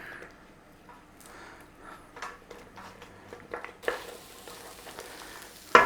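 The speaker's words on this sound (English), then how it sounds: "In there with your onions. Give them a little saute for about 3 or 4 minutes." Onions sauté in a pan with a soft, quiet sizzle and occasional light stirring clatter, faint and intermittent before a louder crackle near the end.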